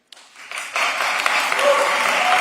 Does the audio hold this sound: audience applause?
yes